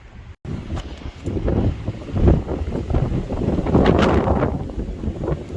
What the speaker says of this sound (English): Sure is windy out today.